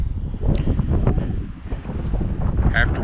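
Strong wind gusts buffeting a microphone outdoors at a homestead, a steady low rumbling roar that swells and eases throughout without pause.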